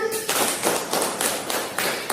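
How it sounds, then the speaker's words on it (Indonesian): A classroom of students claps in unison, several sharp rhythmic bursts of group clapping at a steady beat, close and loud. "Tepuk tangan"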